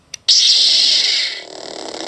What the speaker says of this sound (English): the episode 4 Vader saber sounds like this.